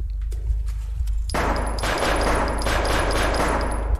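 Rapid gunfire in a bodycam-style horror video game, starting after a short quiet stretch and then running as a dense, loud, continuous burst of shots with sharp repeated cracks until the end.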